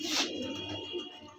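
A pigeon, an Andra breed kept for sale, gives a soft, brief coo close by, with a faint hiss in the background.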